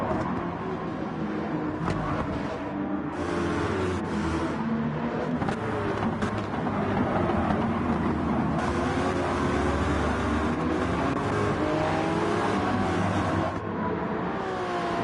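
A Ferrari race car engine drones steadily in a PlayStation endurance racing game at the Nurburgring, loud and continuous with shifting pitch as it accelerates and changes gear.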